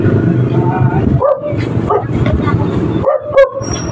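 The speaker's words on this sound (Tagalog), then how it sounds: "si Lucky, tumatahol. Dahil may naririnig po siyang ingay" A dog barks and yips several times, close by, while people talk over it.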